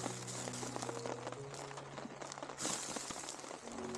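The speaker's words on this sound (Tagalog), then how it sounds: "Umuulan na." Rain falls steadily at a mountain campsite beyond Baguio, a soft continuous patter with scattered drips, faint and close.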